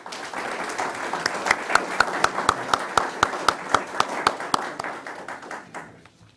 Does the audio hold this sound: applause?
yes